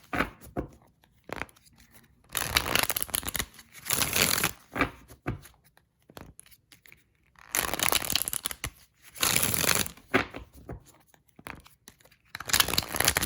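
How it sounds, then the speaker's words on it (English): Tarot cards being shuffled in several bursts of crisp, rapid riffling, with quiet pauses between each run; close and fairly loud, no talking. "I'm going to shuffle these cards a little bit more again"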